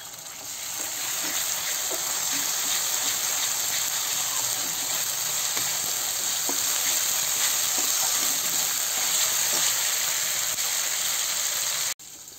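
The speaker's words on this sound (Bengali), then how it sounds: "এখন আদা জিরা দিয়ে দেবো, আদা জিরার পেস্ট" Ginger and cumin paste frying in a pan for a boal (wallago) fish curry, a steady close hiss and sizzle with faint scattered crackles throughout, cut off abruptly near the end.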